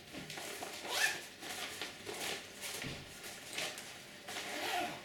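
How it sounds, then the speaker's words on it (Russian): Metal zipper pulls on an Osprey Nova backpack slide open and shut in several short rasping strokes, close and moderately loud, with no talking. "которые позволяют расстегивать и застегивать рюкзак"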